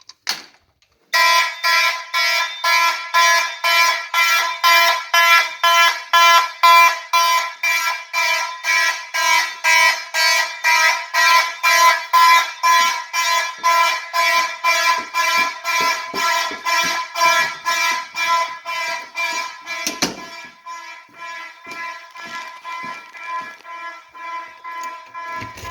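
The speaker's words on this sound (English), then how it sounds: "we'll go ahead and activate pull station right here" A fire alarm triggered from a manual pull station blares in loud, rapid repeating pulses for about twenty seconds, then drops to a fainter, softer pulsing pattern with some shuffling noise.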